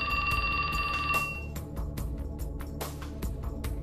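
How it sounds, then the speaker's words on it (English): A phone in the video game 428 Shibuya Scramble rings with a steady electronic trill for about a second and a half and then stops, followed by soft rhythmic game sounds. "His phone rang."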